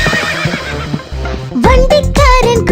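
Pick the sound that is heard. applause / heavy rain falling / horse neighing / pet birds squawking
horse neighing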